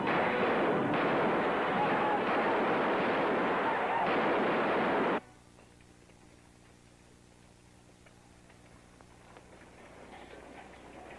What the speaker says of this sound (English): There's a lot of shooting over to the west, Captain.